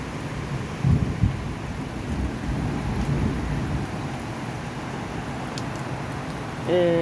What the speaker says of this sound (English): It's only just started raining.